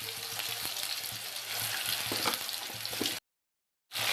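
Ginger-garlic paste sizzling in hot oil with cumin and mustard seeds, a dense continuous frying hiss with small crackles, cut by a short silent gap before resuming.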